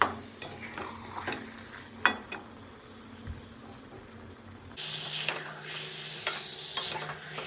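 About 750 grams of chicken, half-cooked into kosha, sizzling quietly in a pan while a spatula scrapes and stirs it at irregular intervals, with a few sharper clinks against the pan's side.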